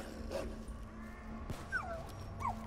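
A dog gives short yips and high whimpering whines a few times over a low hum in Black Ops 3 zombies, fairly close and moderately loud.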